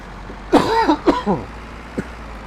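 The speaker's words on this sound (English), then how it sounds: "cough goes away soon" A man clears his throat and coughs a few times close to the microphone, in short raspy bursts over a steady low background hum.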